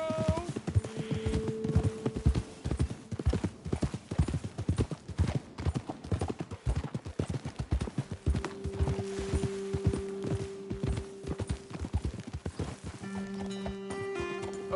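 Horse hooves clip-clopping at a steady pace while riding in Red Dead Redemption 2, close and rhythmic, with a brief whinny and music tones drifting underneath.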